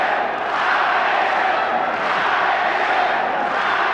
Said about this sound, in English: they were chanting Alexander. And it was like deafening.